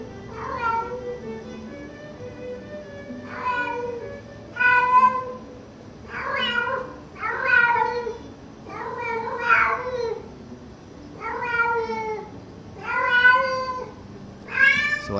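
A male house cat meows loudly and repeatedly, about eight or nine drawn-out, rising-and-falling calls spaced a second or two apart, close to the microphone with no talking.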